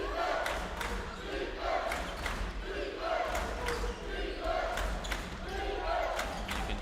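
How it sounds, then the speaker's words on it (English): A crowd at an NCAA men's college basketball game between Trinity and Schreiner rhythmically chants for defense, repeated calls in a steady pulse over arena noise and sneaker squeaks, with a commentator talking over it. "Hear the crowd calling for defense here, looking to get a stop as Cervantes has it."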